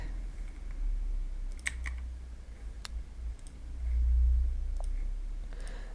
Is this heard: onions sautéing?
no